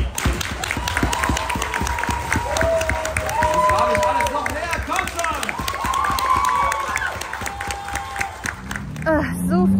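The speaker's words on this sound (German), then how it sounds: "Dann würde ich euch bitten, euch einen fetten Applaus für unsere schönen Cosplay zu geben" Convention crowd at Otaku World applauds cosplayers, a dense, steady wall of clapping lasting several seconds with scattered cheers and voices mixed in, fading toward the end.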